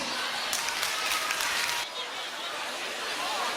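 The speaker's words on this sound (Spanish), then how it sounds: "vamos a recibirla a todos con un fuerte aplauso" Loud, dense applause from an audience at a carnival proclamation in Jaraíz de la Vera, Cáceres, a steady wash of clapping that dips briefly midway and then swells again, with crowd noise mixed in.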